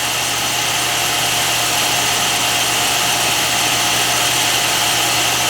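A power saw runs continuously while cutting wood for a mortise and tenon joint, a loud, steady high-pitched whine with a constant tonal hum and no pauses or talking.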